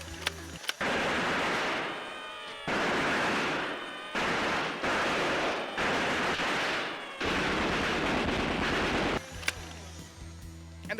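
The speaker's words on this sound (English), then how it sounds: "when you pull the trigger, the first thing it does is rev the flywheels," A BuzzBee Automatic Tommy 20 toy blaster whirs as its flywheels spin up, then fires darts in several loud bursts of a few seconds each, separated by brief pauses and ending with short clicks.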